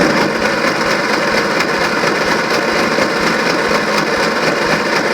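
A petrol engine cranks over steadily with the throttle held wide open during a compression test, giving a loud, continuous, even churning drone with no pauses and no talking.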